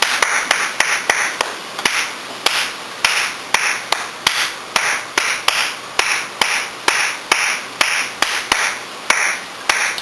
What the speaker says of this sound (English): So if you think about church clapping or soul clapping